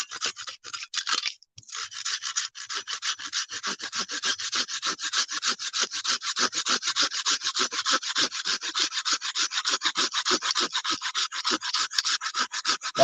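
A saw cuts through a piece of fatwood resting on a cutting block, making rapid, rhythmic, raspy rasping strokes that continue steadily and close up after a brief pause near the start.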